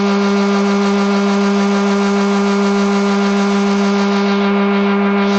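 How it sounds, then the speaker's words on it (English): A Bluewing line winder machine spools fishing line onto a reel with a steady, loud motorized hum that holds evenly throughout with no pauses. "it is literally spooling it perfectly on the spool"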